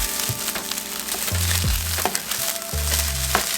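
Fried rice with green onions stir-fried in a hot pan, a steady loud sizzle broken by several scraping, clattering strokes of a spatula stirring the rice, with no voices.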